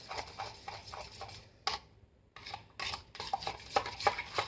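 Aloe powder stirred into a micellar water mixture, a run of quick light clinking taps of a utensil against a container, pausing briefly midway before resuming, close and alone.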